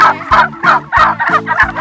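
Turkeys on a turkey farm gobble repeatedly in loud, rapid rattling bursts, about six calls in quick succession, close by with no talking.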